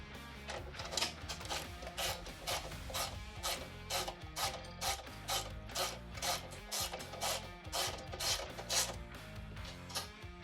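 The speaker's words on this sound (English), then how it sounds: "grab your 7/16 wrench and socket, and you can tighten everything up" Rapid clicking of a 7/16 socket wrench ratchet tightening bolts while a Dramm MS20 100 hydraulic sprayer is assembled, a steady run of close, crisp ratchet strokes with no talk.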